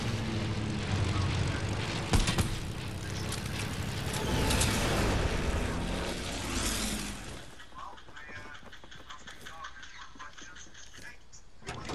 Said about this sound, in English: Plane's incoming.